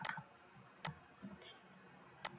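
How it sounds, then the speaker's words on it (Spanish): Faint, crisp computer mouse clicks in a quiet room: a single tick early, then a quick closely spaced pair near the end. "le voy a dar doble clic."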